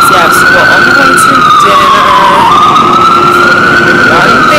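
Emergency vehicle sirens wail along a New York City street, one loud, steady rising-and-falling tone running the whole time over traffic rumble.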